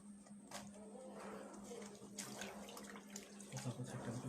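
A tap runs steadily into a sink while a dress is rinsed out after tie-dye or block printing, with soft splashes and handling sounds over a constant low hum, fairly quiet and close.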